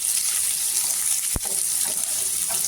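Onion frying in a pan while a Marathi potato bhaji is cooked gives a steady, bright sizzle throughout, with one short sharp knock near the middle, close by and with no voices.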